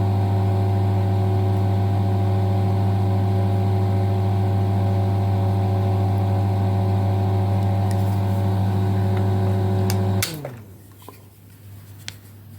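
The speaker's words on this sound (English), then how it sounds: "Well, the motor's running." A Kodak Brownie 8 film projector motor runs with a loud, steady electric hum and whine for about ten seconds, then winds down abruptly into quiet room noise.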